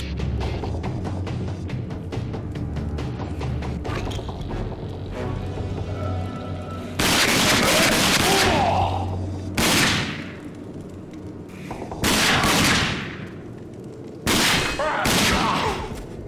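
Pistol gunfire in the first-person shooter Rage, with bursts of loud, sharp shots in several separate volleys amid game effects and a low background drone.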